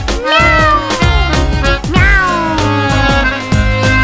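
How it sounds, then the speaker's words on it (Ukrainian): A cat meows twice, loud and close, each call a drawn-out, falling cry over a rhythmic backing. "Це кіт, він сміливо виходить з воріт."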